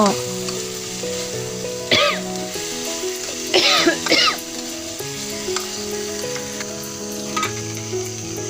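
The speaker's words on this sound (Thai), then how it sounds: "เขาก็ใส่ปลาลงไปเลยเจ้า ค่อยๆพัดเพื่อเข้ากันเลยเจ้า" Fish stir-frying in a pan for a northern Thai curry sizzles steadily, with a few louder bursts as the pieces are stirred and turned, and a cough or throat clearing nearby.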